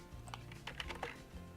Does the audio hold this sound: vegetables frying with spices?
no